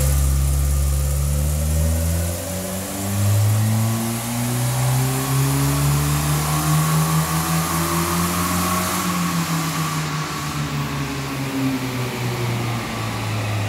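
Japanese car with a K-series engine revving hard: a loud, continuous engine roar whose pitch climbs steadily and then eases back, close up with no talking.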